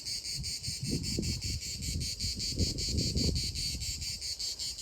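Crickets and insects fill a Provence village with a loud, continuous pulsing buzz, with soft low rustles and footstep-like thuds beneath it.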